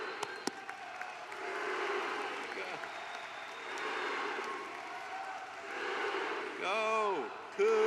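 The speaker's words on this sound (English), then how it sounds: "Everyone, a round of applause for all of these grads." Sustained applause from a large commencement ceremony crowd for graduates, a dense steady wash of clapping with scattered cheers, closing with a brief voice rising over the noise.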